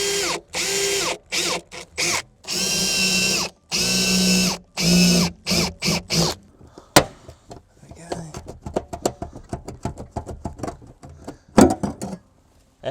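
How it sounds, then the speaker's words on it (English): A power drill whines in repeated short bursts, drilling out spot welds in car body metal, then gives way to scattered clicks and clanks of tools being handled. "Now going to drill out the spot welds."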